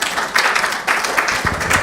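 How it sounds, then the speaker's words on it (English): Short burst of audience applause for a group presenting at a policy conference on gender and extractives, with dense clapping from a room of people that swells, dips briefly and resumes. "They deserve a round of applause."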